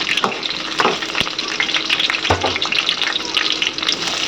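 Sliced onions and green chillies fry in hot oil for a tomato and brinjal curry, a continuous close sizzle with sharp crackles and a couple of spoon knocks against the pan.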